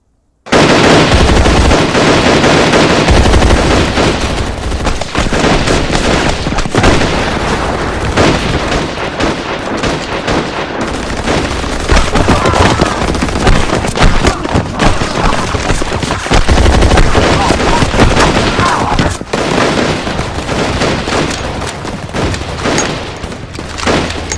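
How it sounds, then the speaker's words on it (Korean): Loud, sustained gunfire fills the whole stretch, dense bursts of rapid shots overlapping with heavier booms like a battle scene, continuous and close with no voices. "사격."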